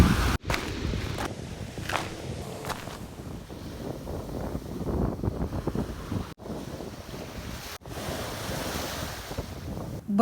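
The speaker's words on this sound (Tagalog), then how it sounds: "It was a windy first day in Boracay" Ocean surf rolls onto a windy Boracay beach, washing in and out in steady surges while gusts buffet the microphone in loud rumbling bursts.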